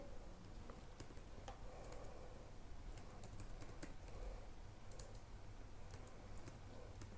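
Soft, rapid keystrokes on a computer keyboard as column headings are typed, a continuous run of quiet clicks at close range with no voices.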